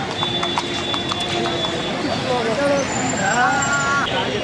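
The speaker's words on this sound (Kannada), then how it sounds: "ನೋಡಿ ಕುದುರೆಲೆಲ್ಲ ರೈಟ್ ಕರ್ಕೊಂಡು ಹೋಗ್ತಾ ಇದ್ದಾರೆ" Horses' hooves clip-clop steadily along the road in front of the palace during Mysuru Dasara, a rapid continuous patter under a dense crowd babble with traffic noise and occasional horn-like tones.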